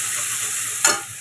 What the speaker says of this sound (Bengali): এখানে মাছের মশলাটা কষাচ্ছি